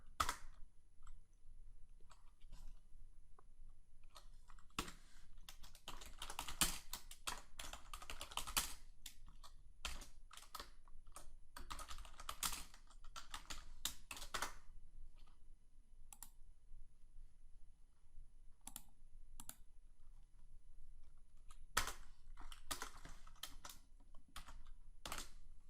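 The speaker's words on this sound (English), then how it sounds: "I'll go ahead and run QBASIC by typing in QBASIC and then enter." Someone types on a computer keyboard in quiet bursts of clicking keystrokes, one run dense and fast, then scattered single taps with pauses between, close by and fairly soft, with no voices.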